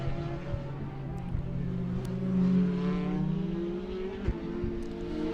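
A race car laps Mondello Park during an ICCR 2024 circuit race, its engine droning and swelling as it accelerates past, then easing off, with a faint crowd-like background.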